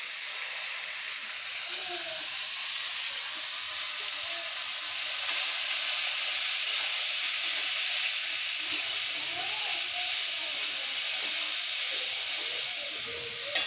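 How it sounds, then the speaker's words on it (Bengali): Bottle gourd greens sizzle steadily in a hot wok over fried lentils, garlic and turmeric, a continuous close hiss of frying with faint clinks and stirring beneath. "লাউ শাকটা এবার আমি দিয়ে দিচ্ছি কড়াইতে।"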